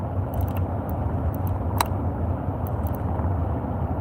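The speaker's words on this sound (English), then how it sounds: "Driving, driving, driving." Steady road noise and low engine rumble from a car driving a long road on an island in the Florida Keys, continuous and close, with a few faint jangling clicks overhead and no talk.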